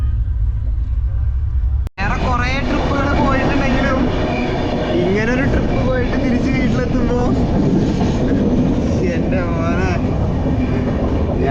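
Inside a moving passenger train on the way back from Kashmir toward Thrissur, a loud, steady rolling rumble fills the cabin after a brief sharp break near the start, with voices talking over it throughout.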